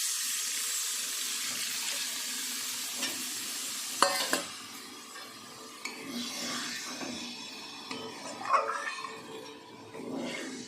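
A pan of vegetarian curry with fried potatoes sizzles steadily as cashew, melon seed and poppy seed paste water goes in, with a spoon scraping and stirring in close, uneven strokes and no talking.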